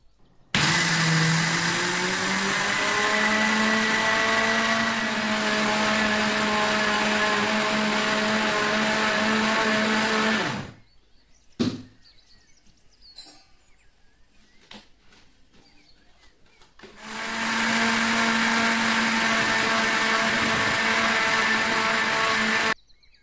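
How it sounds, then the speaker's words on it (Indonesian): Kitchen blender grinding granulated sugar into fine powdered sugar, a loud steady motor whine for about ten seconds, a quiet gap with faint clicks, then the motor roaring again near the end. "Sekarang gula pasir warnanya mau kita blender sampai halus seperti tepung"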